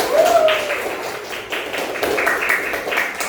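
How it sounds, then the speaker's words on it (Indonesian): A group in a classroom claps hands briefly, a quick flurry of light taps blending with faint background voices and room noise. "Ya, tepuk tangan."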